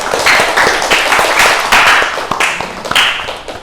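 A classroom breaks into brisk group applause, dense overlapping claps filling the room loudly and evenly for a few seconds before thinning out.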